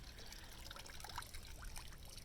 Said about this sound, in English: You can see how the water flows out of the mesh.